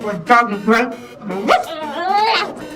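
A human voice imitates a dog, giving a few yappy barks followed by a rising, whiny howl; close and loud.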